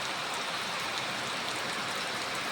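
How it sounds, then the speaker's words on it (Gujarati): Rain falls in a steady, dense wash of hiss that stays even and unbroken throughout, with no voices. "આ તો વધારે આવી ગયો આ તો આપણે આ તો સારું કહેવાય વરસાદ"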